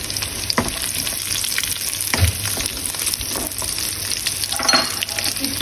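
Carrots tossed into garlic already frying golden brown in a pan, giving a steady sizzle with scraping stir strokes and a few clatters, close and without talk.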